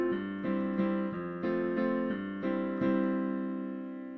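A piano plays the second half of a song verse, about nine clear chords struck in a steady rhythm, close and alone, the last one left to ring and fade.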